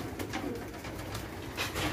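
Racing pigeons in a loft coo softly and repeatedly, low rolling calls rising and falling close by over a steady background hum.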